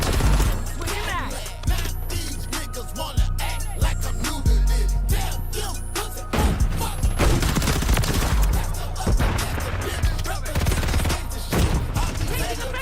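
Dense, nonstop gunfire from the video game Modern Warfare III: overlapping rapid bursts and single shots form a loud, continuous barrage with a booming low end, while voices talk faintly underneath.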